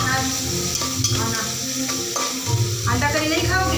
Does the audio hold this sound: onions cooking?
yes